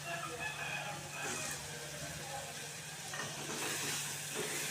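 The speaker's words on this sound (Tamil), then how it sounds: "தக்காளியை சேர்த்துக்கிறேன்." Tomatoes tipped into a pan of browned onions and curry leaves, a steady sizzle with stirring scrapes running throughout at close range, with a faint rooster crowing somewhere in the background.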